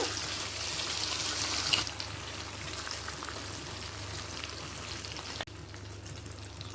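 Ground masala paste sizzles and fries in hot oil in a pan after lightly fried tomatoes, a steady, close crackling hiss that holds evenly throughout with no talking.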